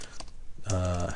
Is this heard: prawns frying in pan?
no